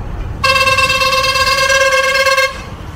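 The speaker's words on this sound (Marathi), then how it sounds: "एवढा हॉर्न मारतो" A truck blasts its horn on a winding ghat road, one long loud sustained honk of about two seconds rising out of quiet road noise and then cutting off.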